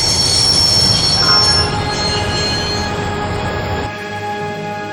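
A train in the Broken Sword adventure game screeches to a stop, a loud sustained metallic squeal of wheels on rails with rumbling underneath that eases off toward the end, heard alone without voices.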